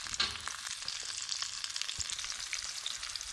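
Sliced onions frying in oil in a pan until lightly browned, a continuous soft crackling sizzle at moderate loudness with no talking.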